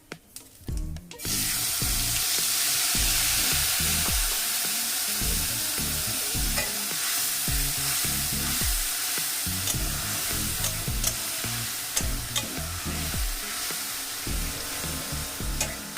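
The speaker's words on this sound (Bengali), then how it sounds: "গ্যাসের ফ্লেমটা কমিয়ে আমি খুব সুন্দরভাবে নাড়াচাড়া করে কষিয়ে নেব মশলাটা।" Spice paste frying and being stirred with bottle gourd and prawns over a lowered gas flame, a steady close sizzle with repeated scraping strokes of a spoon through the whole stretch, no talk.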